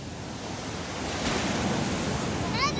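Ocean surf at Hermosa Beach makes a broad, steady wash of waves mixed with wind noise, swelling slightly halfway through, with a brief faint voice near the end.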